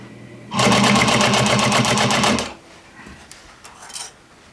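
A sewing machine stitches denim jeans in one loud, close, rapid burst of about two seconds, then stops, followed by faint handling clicks.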